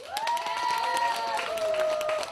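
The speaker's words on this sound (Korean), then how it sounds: "박수 한번 쳐주면 안 될까?" Outdoor crowd at a cherry blossom festival performance clapping in a scattered burst, with a sustained tone and a bright pitched sound running over it throughout.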